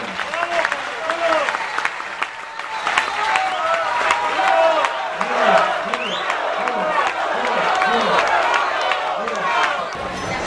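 Audience applause at a political information assembly greets deputy Jaime Cárdenas, steady clapping mixed with crowd chatter and scattered voices across the whole stretch, moderately loud and unbroken.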